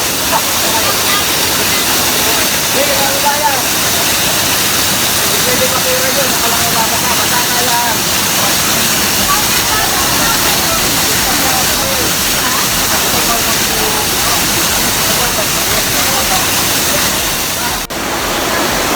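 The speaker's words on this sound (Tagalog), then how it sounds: "And the most awaited falls." Tungtong Falls waterfall roars steadily at its base, a dense continuous rush of falling water close by and unbroken throughout, with no talk over it.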